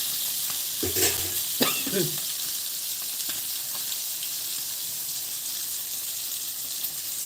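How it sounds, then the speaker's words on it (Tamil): Fish sizzles steadily as it fries in a pan for a fish curry, a continuous close hiss with a few brief clatters of stirring near the start, with no talking. "அவ்வளோதான், ஃப்ரை ஆயிடுச்சு."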